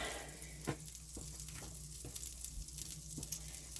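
Fish frying in a pan, a steady close hiss of sizzling oil punctuated by a few soft knocks and pops, with no talking.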